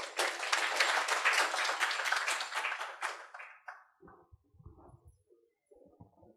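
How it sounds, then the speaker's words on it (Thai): Applause from a seminar audience on biodiversity conservation networks, held with the Zoological Park Organization of Thailand, starts loud and dense, then thins and fades out after about three seconds, followed by faint low rustling and a few quiet scattered sounds. "ขอเสียงปรบมือด้วยครับ"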